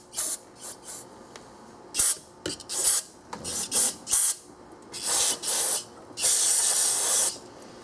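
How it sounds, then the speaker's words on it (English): Brake cleaner sprays onto the intake butterfly valves of a 2001 Infiniti QX4 in a string of short, close hissing bursts, separated by brief pauses and ending in a longer blast. "we're going to see if brake cleaner can break it first"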